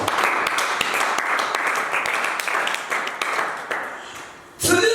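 A church congregation bursts into sustained applause and clapping during a worship service, a dense crowd of hands that fades near the end before a loud new sound cuts in.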